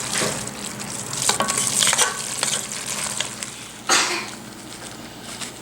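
Crème fraîche is stirred into a beef bolognese sauce with cherry tomatoes in a pot, a close, steady wet sizzle broken by scraping strokes of the spoon and a sharper clatter near the end.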